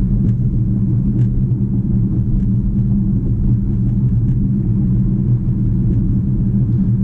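A 2017 Audi Q5 quattro cruising at night over a bumpy road, heard as a steady, loud low cabin rumble of road and engine noise with no distinct individual thumps.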